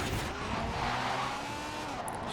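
Race car in the video game Forza Horizon 4 cornering with a steady engine drone and continuous tire squeal, faint and even throughout with no talk.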